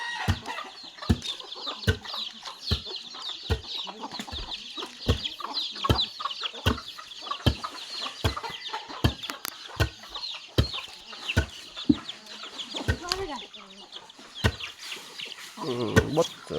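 Chickens cluck continuously around a village home, several birds close by, with regular sharp clicking or tapping sounds repeating steadily throughout.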